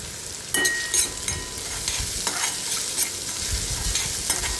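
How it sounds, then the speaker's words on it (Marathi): Tomatoes with salt stir-fried in a pan: close, continuous sizzling with repeated scraping stirs and spatula knocks at an uneven rhythm. "एक मिनिटभर परतून घेऊया व्यवस्थित मस्त असं मऊ झालेलं आहे टोमॅटो"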